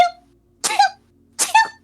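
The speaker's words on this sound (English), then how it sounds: "She sneezes 3 more times in rapid succession." Jessica, a woman, sneezes three times in rapid succession. Each burst is close and forceful with a quick catch of breath, spaced about two-thirds of a second apart in an otherwise quiet room.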